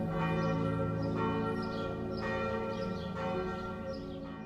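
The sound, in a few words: village church bells ringing at noon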